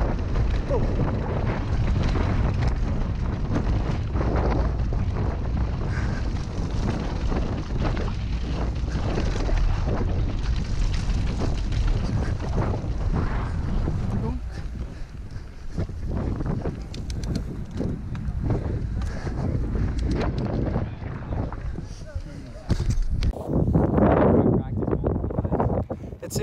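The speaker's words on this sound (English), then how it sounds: "super windy" Strong gusting wind buffets the microphone on a ski slope while snow falls, a loud, continuous roaring rumble throughout with people talking underneath.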